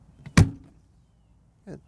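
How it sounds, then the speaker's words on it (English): An RV entry door on a 2025 Forest River IBEX 23MBH travel trailer slams shut on its slam latch, giving one sharp close-up bang followed by a quieter latch click about a second later. "it has a lockable, nice latch system, but it's a slam latch"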